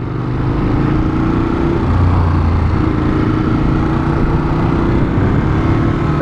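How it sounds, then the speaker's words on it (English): A Ducati Monster 821 two-cylinder engine runs steadily with a dense, continuous rumble and throbbing low drone, loud and close with little change in pitch throughout. "The most memorable thing of this bike so far easily is just the noise it makes. There's nothing quite like Ducati 2-cylinder."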